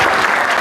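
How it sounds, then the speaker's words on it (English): A short burst of audience applause at a business awards ceremony, dense and fairly loud but lasting under a second. "Can we have a little round of applause?"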